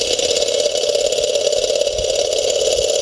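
A small solar-heated Stirling engine model runs without combustion, giving a loud, steady mechanical hum with a fast, even whir, close by and alone with no talk.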